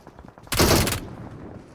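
A rapid burst of gunfire in a shooting video game, a tight volley of shots lasting about half a second, loud against quiet background noise.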